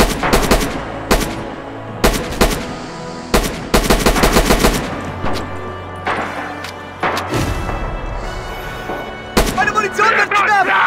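Dense gunfire from the Red Orchestra 2 video game, with machine-gun bursts and rifle shots crackling in rapid clusters. A German-speaking soldier voice shouts over the din during heavy combat.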